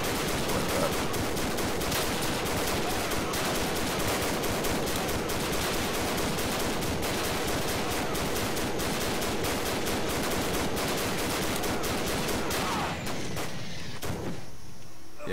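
Dense gunfire fills a World War One battlefield video game: rapid machine-gun bursts and rifle shots crack on top of each other almost without pause, loud and near, and only thin out over the last couple of seconds.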